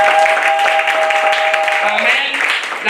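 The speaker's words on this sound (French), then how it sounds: "Acclamons la parole du Seigneur" A church congregation applauds, a dense burst of clapping that holds steady for a few seconds, with voices and a sustained tone underneath.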